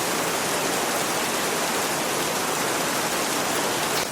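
Steady rain pours down, a dense, even hiss that holds at the same loudness throughout with no voices.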